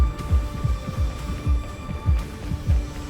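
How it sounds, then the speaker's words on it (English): Heartbeat sound effect in the Honkai: Star Rail game: a steady, deep double-thump pulse repeating about twice a second over a low droning hum, no voices. "I don't like these heartbeat sounds."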